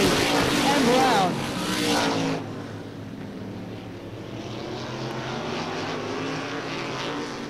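ISMA supermodified race cars roar past on the Star Speedway oval, a loud engine burst up close for the first two seconds, then a steadier distant drone of the field running single file, with a commentator talking over it.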